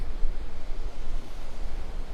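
Ocean waves washing onto the beach at Wiggins Pass, Florida, a steady rushing surf with soft rolling swells and some wind, no talk.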